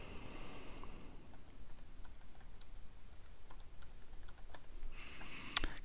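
Someone types on a computer keyboard in a quiet room, a quick run of light, close key clicks in irregular bursts, ending with a sharper tap.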